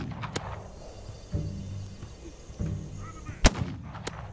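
Enemy gunfire in the survival game This Land is My Land thumps repeatedly into the player's cover, with low rumbling bursts and a few sharp, loud cracks standing out against quiet game ambience.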